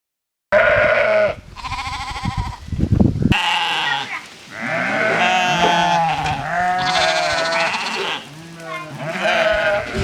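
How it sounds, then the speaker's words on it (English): Sheep, about 2.5 months old, on a small part-time farm bleat loudly and repeatedly, several overlapping wavering calls close to the listener, with a short burst of rustling and knocking near the start. "I rear sheep."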